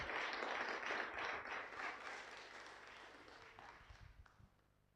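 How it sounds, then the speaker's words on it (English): Guests applaud a newly married couple, James and Taran, at their wedding ceremony, a dense spread of hand claps that starts loud and gradually thins and fades out over several seconds. "Can we maybe just give them just a hand clap?"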